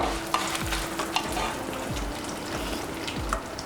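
Sesame seeds and dried red chillies fry in a pan for curry leaves chutney. A loud, continuous sizzle and crackle fills the moment, with regular scraping stirring strokes and no talking.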